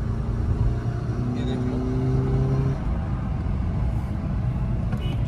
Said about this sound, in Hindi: मैं आपको एक बार थर्ड में करके ना थोड़ा 4000 RPM तक खींच कर दिखाऊंगा